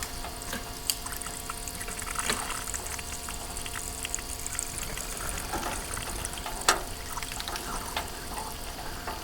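Fluid draining out of a stalled bulldozer, a faint steady trickle and pour outdoors with a few scattered clicks and clanks, no voices.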